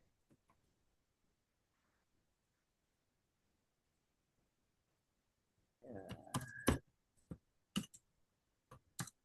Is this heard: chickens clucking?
no